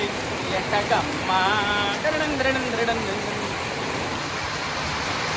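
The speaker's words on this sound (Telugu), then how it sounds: "ఇట్స్ రెయినీ డే చూడండి ఎంత వర్షం పడుతుందో" Heavy rain pours down in a home backyard, a loud, dense and continuous hiss of drops on surfaces, with someone talking over it.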